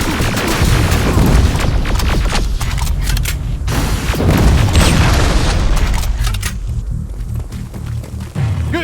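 Dense gunfire and heavy booming explosions from a first-person shooter set in the Terminator: Resistance game, a loud continuous barrage of shots and blasts with no pauses throughout.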